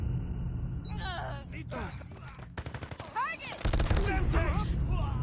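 Rapid bursts of gunfire in the mobile shooter Call of Duty Mobile rattle in quick clusters, with whizzing effects and a louder sustained volley near the end, set against game sound.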